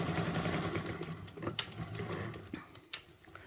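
A sewing machine top stitches a clear vinyl bottle bag, a close, quiet, rapid mechanical chatter running almost continuously with small pauses and uneven rhythm.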